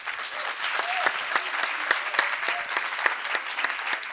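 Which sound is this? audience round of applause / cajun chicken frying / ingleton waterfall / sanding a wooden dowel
audience round of applause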